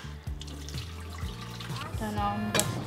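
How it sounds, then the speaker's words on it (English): Fish rinsed under a running kitchen tap, with steady splashing water and bursts of sharper spatter, joined by a few dull clunks and some background voice. "Rinse the kielbas under running water."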